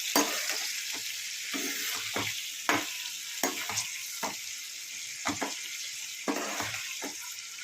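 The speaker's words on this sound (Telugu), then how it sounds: "ఈ విధంగా పసుపు సాల్ట్ వంకాయ ముక్కలకి కలిసే విధంగా ఫ్రై చేసుకోండి" Eggplant pieces fry with turmeric and salt in a pan, a steady hiss under repeated sharp scrapes and clinks of a spatula stirring at close range, with no voices.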